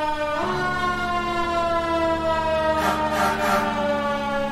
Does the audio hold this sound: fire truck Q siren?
yes